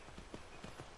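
Horse hooves in Skyrim, a quick series of soft clip-clop steps at an even trotting rhythm, quiet and close with no talk.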